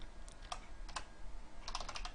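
Computer keyboard typing while entering code, a few scattered clicky keystrokes and then a quick burst of taps near the end, close and moderately loud, with no talk.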